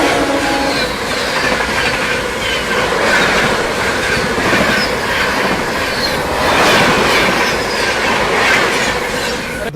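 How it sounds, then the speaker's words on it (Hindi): The 12301 Howrah–New Delhi Rajdhani Express rolls past close by, a loud, steady roar of coaches with rhythmic clickety-clack of wheels over rail joints and faint metallic squeal, continuous throughout. "यहाँ पर अपने से क्रॉस होती हुई 12301 हावड़ा नई दिल्ली राजधानी एक्सप्रेस"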